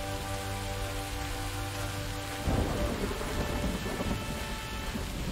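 Thunderstorm in the video game Empires and Tribes: steady rain with a low rumbling tone, then a sudden crack of thunder midway that rolls into heavier, noisier rain and lingering rumble.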